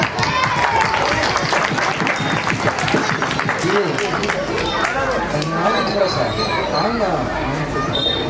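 Applause and scattered clapping ring out over a busy crowd, with chatter and voices running through the whole stretch.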